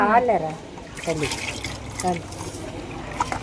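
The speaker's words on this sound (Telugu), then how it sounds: "ప్లేట్ లో వాటర్ పడుతున్నా" Water is scooped up and poured from a plate, a soft splashing trickle that runs beneath people talking close by.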